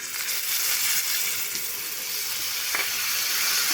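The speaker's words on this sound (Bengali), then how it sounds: "একটু জল দিয়ে মশলাগুলো কষে নেব" Ground turmeric, coriander, cumin and chilli powder sauté in a pan with a little water, a close, continuous soft sizzle and hiss with faint stirring.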